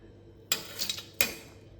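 A spatula stirs dry anchovy sambal with eggplant and egg in a pan, giving two short metallic scrapes and clanks about a second apart, fairly close and otherwise quiet.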